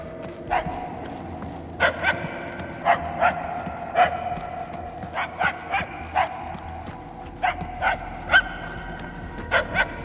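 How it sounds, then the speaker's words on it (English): Dog barking in the Guardians of the Galaxy video game, sharp repeated barks in irregular bursts of two or three, moderately distant and echoing over a low ambient game hum, with no talk over them. "If you're trying to follow the barks, then yeah, he's sure."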